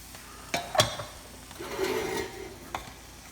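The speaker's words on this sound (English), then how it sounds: "Add the rice into your oil and your onion, in this case butter." Rice parching in butter with onion in a pot, stirred with a few sharp scrapes and clinks against the pan, then a soft sizzle rising underneath, close and fairly quiet.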